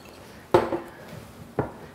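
Cranberry beans tumble into a pot in two short clattering bursts about a second apart, close and fairly loud against a quiet kitchen.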